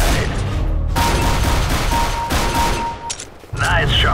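Rapid, dense gunfire from Counter-Strike: Global Offensive deathmatch on the fy_iceworld map, a loud continuous fusillade of shots filling most of the moment, with a brief lull before firing resumes.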